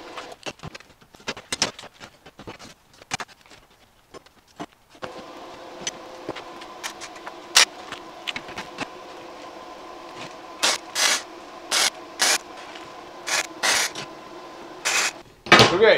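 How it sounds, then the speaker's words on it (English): Short bursts of tack welding join the corners of a steel propane rack, several separate crackling zaps of a few seconds each with pauses between them, set against a low steady hum and light shop clatter. "now I'll just tack all the corners into place"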